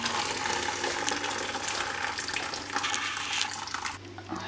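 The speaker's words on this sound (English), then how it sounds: "draining the pasta and catching some of the water" Water from cooked pasta poured through a strainer into a bowl below, a steady splashing gush that runs continuously and eases slightly near the end, with no talking.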